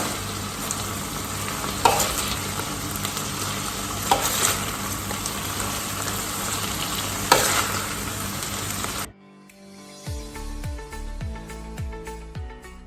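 Tantuni bread being dipped and fried in pan fat in a home kitchen, giving a dense, even sizzle that runs for about nine seconds and then cuts off into quieter, cleaner sounds.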